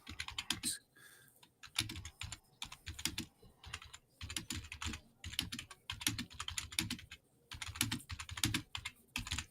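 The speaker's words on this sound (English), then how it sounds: "You hear me typing?" Fast, steady typing on a computer keyboard, dense clicking keystrokes close by and fairly quiet, with no talk.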